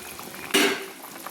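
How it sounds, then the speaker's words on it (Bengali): Fried bata fish dropped into a pot of boiling sour curry with potato, cauliflower and eggplant, giving one short, fairly loud splash and clatter that fades quickly over a low kitchen background. "টকের ফুটটা উঠেছে, আমি এই সময় বাটা মাছগুলো ছেড়ে দিচ্ছি"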